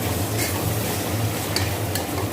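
Ginger-garlic paste sautéing in oil makes a constant dense sizzle, close and unbroken, with a couple of faint utensil taps and no voices.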